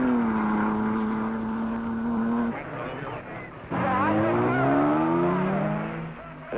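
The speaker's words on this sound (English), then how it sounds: "as Fangio pulls up to the Alfa pits to refuel, another Alfa arrives" Vintage racing cars, including Alfa Romeos, run loud at the Mille Miglia, engines holding a strong droning note, dropping briefly, then revving back up with rising pitch close by.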